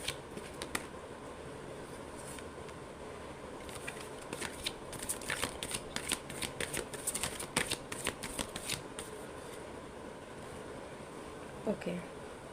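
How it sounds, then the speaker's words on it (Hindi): Tarot cards shuffled by hand at close range, a steady run of papery riffling and flicking that thickens in the middle and thins toward the end, with no talking over it. "सबसे पहले हम कार्ड शफल करेंगे।"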